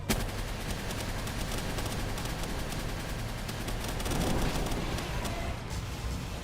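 Sustained gunfire during a Palworld boss fight against Shadowbeak, a dense barrage of shots rattling on without pause, swelling slightly louder near the end, with no voices.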